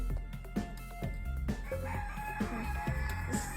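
A satin silkie and Americana mix chicken clucks and crows in short, close bursts over a few seconds, with other farmyard fowl sounds mixed in and no speech.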